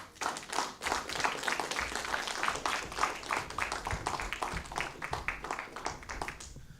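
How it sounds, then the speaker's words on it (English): An audience at an interactive discussion on AI claps steadily, a dense, continuous run of hand claps that holds for several seconds before tapering off. "A bigger round of applause for Jim"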